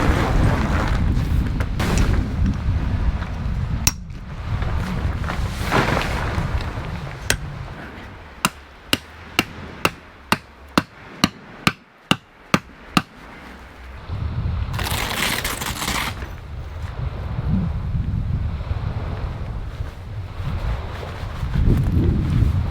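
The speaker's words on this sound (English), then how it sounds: "This wind's picking up." Gusty wind rushes across a campsite beside a Jeep with an awning room, a steady buffeting roar that drops away midway for a run of sharp, evenly spaced taps before surging back.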